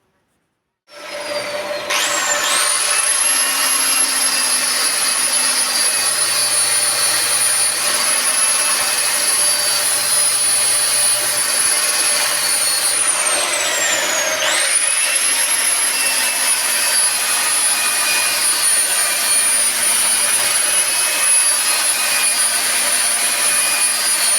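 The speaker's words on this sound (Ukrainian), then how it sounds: "почну шліфувати зовнішню частину" A steady, loud whirring drone with a high whine runs throughout, briefly dipping in pitch midway, as a spinning lathe sands the outer surface of a turned oak bowl.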